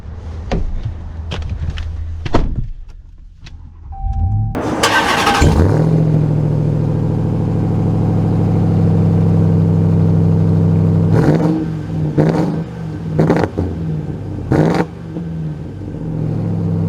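A high-mileage Ram TRX pickup truck starts up with a quick crank and loud roar, then settles into a deep rumbling idle before revving and pulling away, close and powerful with door clunks and clicks before it.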